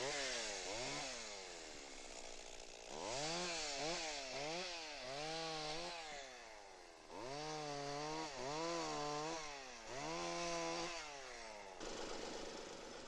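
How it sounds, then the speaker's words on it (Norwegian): A chainsaw cuts through juniper trunks up to half a meter thick, its engine revving up and down in repeated loud, whining bursts as each cut bites, with brief idling dips between. "Med høyder på 14 meter og diameter på opp til en halv meter må det motorsag til."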